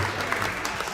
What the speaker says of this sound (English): Let's clap it up for volleyball.